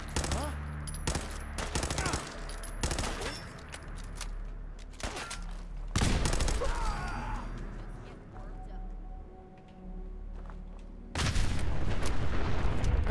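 Pipe rifle firing .38 rounds in Fallout 4, a series of sharp, loud gunshots in irregular bursts with short gaps, mixed with game background noise and some voice.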